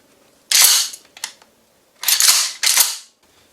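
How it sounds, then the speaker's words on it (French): A Remington 870 Marine Magnum pump-action shotgun is racked, giving loud, close metallic clacks: one sharp stroke, a lighter click, then two more forceful back-and-forth slides in quick succession, with no voices. "l'action de la pompe va permettre d'alimenter notre fusil"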